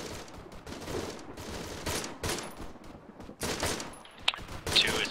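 Arma 3 gunfire: repeated bursts of rapid shots crackling one after another in a dense, continuous fusillade of moderate loudness, with a few sharper reports near the end.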